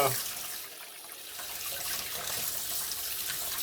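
Pork neck bones being rinsed under a running faucet at a sink, steady splashing water that stays close and fairly loud throughout, with no speech.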